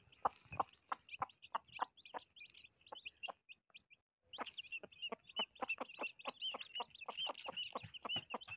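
A wingless hen clucks in a steady series of short, sharp calls, pausing briefly midway before resuming faster and louder, close to the listener, in a village.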